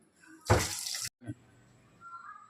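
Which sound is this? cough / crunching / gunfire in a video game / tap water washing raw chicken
tap water washing raw chicken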